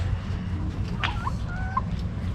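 A one-year-old hen gives a few soft clucks over steady background noise, one brief burst followed by a slightly longer drawn-out cluck.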